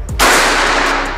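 A single sharp report from a Mauser OD38 PCP air rifle, fired close up and followed by a broad, sustained hiss that slowly fades.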